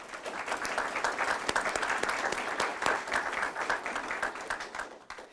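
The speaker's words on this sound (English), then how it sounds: "Let's give them a round of applause." An audience at a county candidate forum in Jefferson County, Missouri, gives a sustained round of applause, dense steady clapping filling the room for several seconds, with no talk over it.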